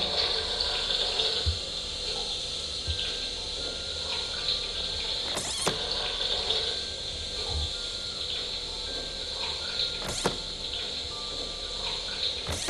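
Running water in an audio recording gives a steady, faint rushing hiss that lasts the whole time, with a couple of brief sharp clicks and no voices.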